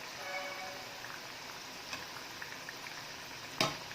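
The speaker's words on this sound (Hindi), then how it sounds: "सारे कटलेट कितनी अच्छी तरीके से पक रहे हैं" Mini cutlets fry in hot oil over a medium flame, giving a steady close sizzle throughout with a few brief crackles and one sharp pop near the end.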